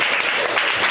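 A brief burst of dense applause from an audience at a Taichung panel discussion, loud and continuous for under a second.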